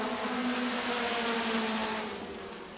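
Midget race cars lapping an asphalt oval at night, a steady loud engine drone with sustained high revs passing by, fading slightly at the end with no talk.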